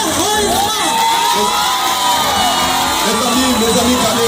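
Loud crowd cheering with shouts, whoops and children's voices at a silver wedding anniversary vow renewal ceremony, a continuous roar with some rising and falling voices on top.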